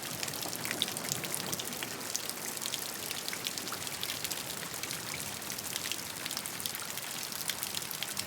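Steady soothing rain falls continuously, a dense even patter of drops on surfaces that stays constant throughout with no voices.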